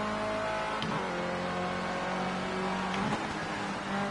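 Formula C race car engine at Laguna Seca in Project Cars 2, a steady, high-pitched whining drone that shifts pitch with gear changes and runs loud throughout.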